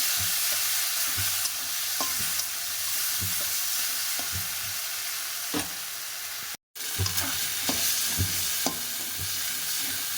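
Potatoes cooking with a ground paste of nuts, ginger, tomato and green chillies in a pan, a constant sizzle broken by repeated rhythmic spatula scrapes and taps, close and fairly loud, with one abrupt instant of silence midway.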